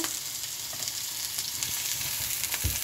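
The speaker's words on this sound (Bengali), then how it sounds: "এই পেঁয়াজগুলো আমি ভাজবো যতক্ষণ না পর্যন্ত পেঁয়াজ একদম ট্রান্সপারেন্ট হয়ে আসে।" Onions, three large ones, fry in a pan with a continuous close sizzle and crackle, and a dull low thump lands near the end.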